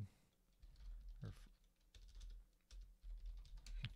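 Computer keyboard typing while text is entered into a spreadsheet, irregular clusters of close, crisp key clicks with brief pauses, no talking.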